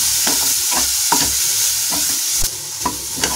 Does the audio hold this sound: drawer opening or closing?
no